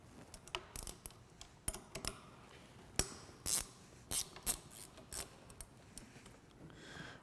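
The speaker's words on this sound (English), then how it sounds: "we'll remove the 4 bolts for the upper bar mount and the 4 bolts for the lower bar mount" Bolts removed from the upper and lower handlebar riser mounts of a Polaris, heard as faint, scattered metallic clicks and clinks of a tool and loose hardware, close and quiet, without speech.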